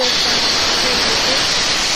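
A pressure cooker of vegetables for pav bhaji vents steam in a loud, continuous, close hiss that holds steady for the whole stretch with no pause.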